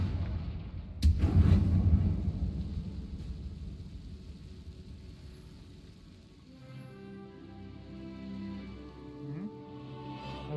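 A Confringo fire spell explodes in the Hogwarts Legacy video game with a sudden loud blast, then a rumbling tail that fades over several seconds before quieter game sounds and music rise.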